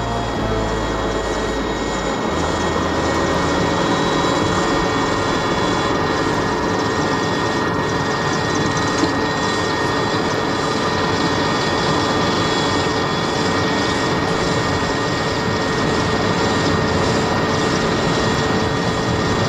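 South African Defence Force military helicopters flying during wartime operations in Angola: a loud, continuous roar of engines and rotors fills the whole stretch, steady and close with a low rumble near the start and no talk.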